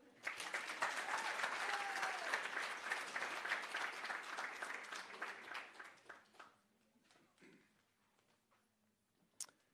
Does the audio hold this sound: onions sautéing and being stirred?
no